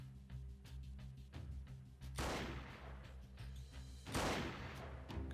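Gunfire in the PC game Freeman Guerrilla Warfare, with repeated shots and two loud, heavy bursts that ring out over a steady background ambience.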